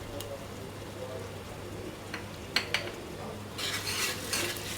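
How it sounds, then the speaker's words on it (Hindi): Whole garam masala (black pepper, black and green cardamom, and cinnamon pieces) fries in a pan for beef paya, with a faint, quiet sizzle, a few light utensil clinks, and a louder burst of frying near the end. "अब इसको मज़ीद भून लेंगे गरम मसाले को भी"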